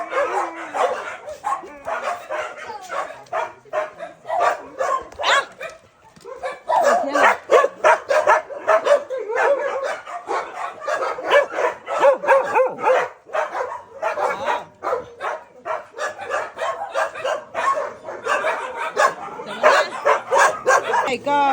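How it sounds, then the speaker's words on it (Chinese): Many puppies at a Chiang Mai stray dog rescue bark and yip in a rapid, overlapping clamour, close and loud, with a few whimpers and human voices mixed in. "My God， 这么多小狗！"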